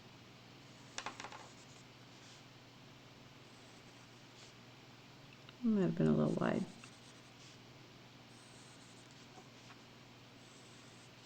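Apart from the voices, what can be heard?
pencil drawing on paper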